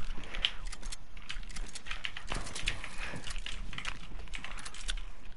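Rapid keyboard and mouse clicking while playing an arena video game, a dense run of close, crisp key taps and clicks continuing throughout with no voices.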